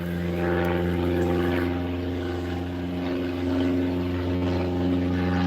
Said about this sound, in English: It's a plane.